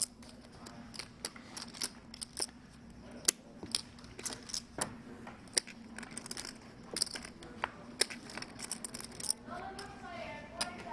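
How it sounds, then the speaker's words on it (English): A giveaway drawing machine runs with rapid mechanical clicking, ratcheting and rattling ticks in an irregular stream, moderately close, under a steady low hum, with no one talking. "Let's fire up that giveaway machine."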